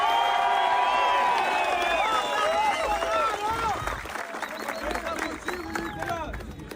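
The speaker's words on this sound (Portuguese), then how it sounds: "Eu quero uma salva de palmas para ele agora." A crowd at an outdoor political march cheers and applauds, with whoops and shouting voices rising over continuous clapping that stays loud before thinning out toward the end.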